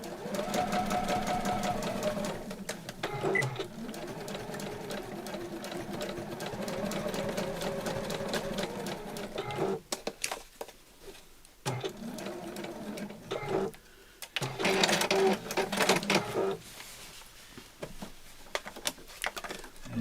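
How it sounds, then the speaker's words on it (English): A sewing machine runs in steady bursts of rapid stitching, close and clear, pausing briefly midway before starting again with short runs of stitches. "Drop my foot, drop my needle, a couple of stitches on the spot"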